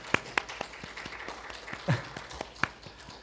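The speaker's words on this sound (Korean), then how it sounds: "우리 함께 다 같이 박수로 환영할까요?" A church congregation at a Sunday service gives scattered applause to welcome a newlywed couple, with sparse, uneven claps spread across the moment.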